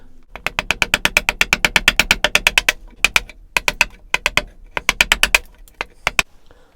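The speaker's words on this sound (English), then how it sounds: "going along with the chisel, taking the bulk off leaves me a little slither" A hand chisel pares wood along a bass guitar neck in quick, dry, crisp strokes. The close cuts come in rapid bursts with short pauses between runs, and no one talks.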